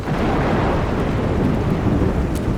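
Thunder rumbles over steady heavy rain in the Road 96 video game, a dense continuous wash of downpour with a low rolling roar throughout, loud and close, with no voices.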